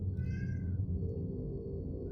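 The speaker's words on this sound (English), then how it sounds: "That's the cat." A cat gives one clear drawn-out meow early on, heard indoors over a steady low background hum.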